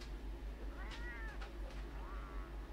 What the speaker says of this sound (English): Oh, that's a grumpy cat.